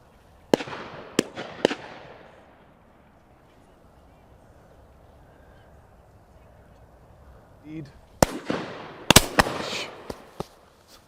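Shotgun blasts at pheasants during a game shoot on Leighton Long Mountain, three sharp reports early, a quiet stretch, then a rapid cluster of four or five more near the end, fairly close and loud.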